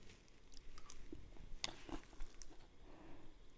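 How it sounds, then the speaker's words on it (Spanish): Lettuce is chewed close up with soft, wet crunching and squishing bites in an irregular rhythm, quiet but continuous. "Qué fatiga masticar."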